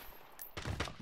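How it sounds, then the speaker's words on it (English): Gunfire in the battle royale shooter Apex Legends, a brief, quiet burst of a few rapid shots and muffled impacts, sounding somewhat distant. "Oh, I'm getting shot from behind"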